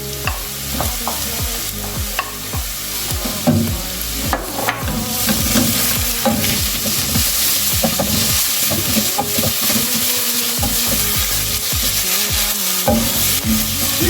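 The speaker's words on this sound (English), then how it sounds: "so I will put in our garlic to also continue cooking." Garlic sizzles in a pan of softened onions while a utensil stirs and scrapes repeatedly, a steady close frying hiss with frequent clattering strokes against the pan and no talking.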